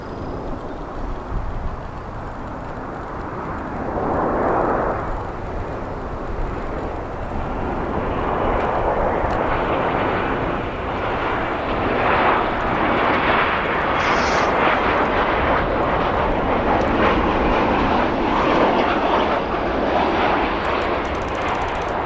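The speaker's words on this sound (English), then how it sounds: "take a look at an American 737-800 arriving" An American Airlines Boeing 737-800 arriving from Los Angeles lands at Chicago O'Hare, its engine roar swelling loud and broad, then holding as a sustained rumbling rush through the touchdown and rollout.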